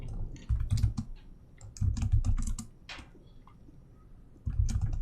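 A command is typed on a computer keyboard in a terminal: quick bursts of close key clicks separated by short pauses, with no voices.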